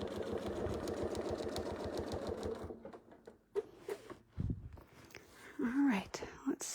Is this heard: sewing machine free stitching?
yes